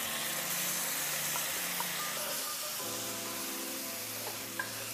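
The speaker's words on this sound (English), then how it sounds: "I went ahead and just stirred it up." Roasted tomato sauce being stirred into chili in a pan, a steady close sizzle and soft scraping stir running throughout with no talk.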